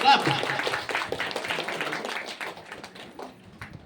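An award ceremony audience breaks into applause, with many hands clapping in a dense patter that gradually thins out, under a speaking voice.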